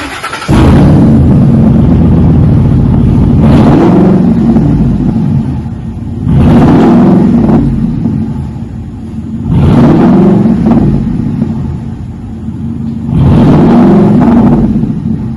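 A 2010 Ford F150's loud, raw straight-piped engine with no mufflers revs to about 2,000 rpm and settles four times in a steady rhythm, a deep rumbling roar close by with no talking.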